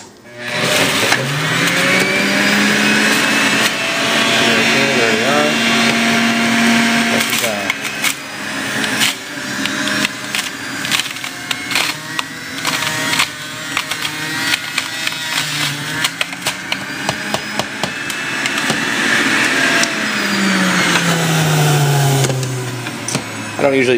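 A juicer grinds through hard vegetables at speed setting 5, a steady loud motor whine with rough, changing crunch and knocking as pieces feed through, running continuously with brief talk over it.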